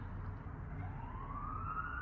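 A siren wails in the distance, faint, its pitch sweeping upward as it rises out of low background rumble.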